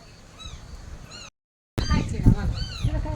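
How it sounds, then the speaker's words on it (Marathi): Kittens meow several times in thin, rising cries, first faint, then louder and closer after a brief gap, with background noise around them at a farm. "मांजरीची पिल्लं बघा आता चालायला भारी लागले"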